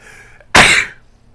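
One abrupt, loud sneeze bursts out close by, a sharp explosive burst that fades within about half a second.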